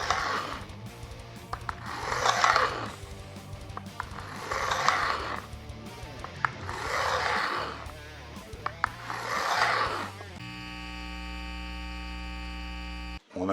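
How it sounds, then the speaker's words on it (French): A file rasping along a wooden tool handle in long, slow strokes, five broad swells of scraping roughly two seconds apart over a steady electrical hum, which continues alone at the end. "Il faut laisser faire le grain de la lime et bien se concentrer sur ce mouvement longitudinal"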